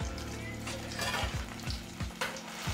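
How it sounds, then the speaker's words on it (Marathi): Cheese balls made with potato deep-fry in hot oil, giving a steady, dense sizzle and bubbling with occasional stirring scrapes, close and continuous throughout. "आता आपण हे व्यवस्थित तळून घ्यायचे आहे"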